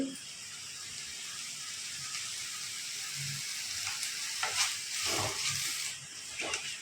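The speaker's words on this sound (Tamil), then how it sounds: "இதை நல்லா வதக்குங்க நல்லா காய் சாஃப்ட் ஆயிடுச்சு" Snake gourd softening as it is sautéed in a pan, giving a steady low sizzle with occasional scraping stirs that grow a little louder toward the end; no one talks.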